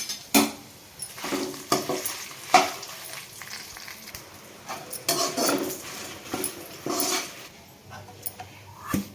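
Dried red chillies dry-roasting and being stirred in a pan for Guntur gongura pickle, giving intermittent scraping and rattling with a soft sizzle, close and moderately loud, with no voices.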